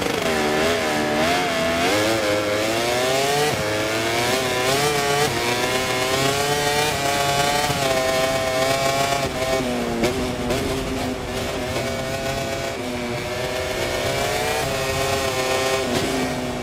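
MotoGP motorcycles at the Phillip Island Grand Prix in MotoGP24, several engines droning and revving together at high pitch, close and loud, rising and falling steadily without talk.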